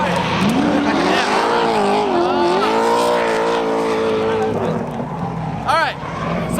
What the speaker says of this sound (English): We have the loudest V8 cars known to man on track